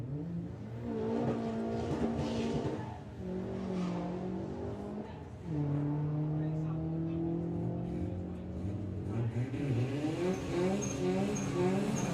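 VW Racing Beetle and VW Caddy drag racing at Santa Pod during VW Pro qualifying, engines revving and roaring down the strip with shifting pitch, heard at a distance beneath a commentator's voice over the track PA.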